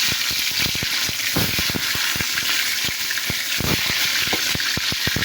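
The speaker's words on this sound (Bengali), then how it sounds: "একটু লবণ দিয়ে দেবো ডিমে, দিয়ে ডিমটাকে ভালো করে ভেজে নেব।" Salted eggs frying in a wok give a loud, dense, close hiss with rapid spitting pops and crackles throughout, and no speech.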